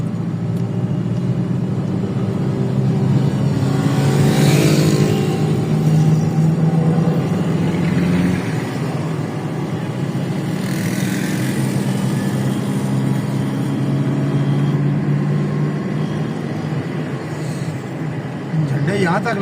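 Road traffic rumbles through the Murree Road underpass, a steady engine drone with vehicles swelling past now and then, heard under continuous nearby talking.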